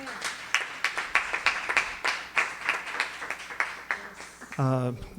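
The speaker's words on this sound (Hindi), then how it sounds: "इस खूबसूरत कलाम के लिए हम ज़ोरदार तालियां बजाएंगे।" A church congregation claps loudly in a steady, rhythmic beat for several seconds, the handclaps close and sharp before fading as a voice starts speaking over them.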